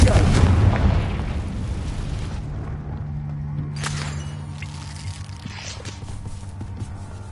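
Spell explosions from the Confringo curse in the Hogwarts Legacy video game burst loudly at the start, then fade into a low rumbling game ambience with a few faint thuds and scattered softer hits.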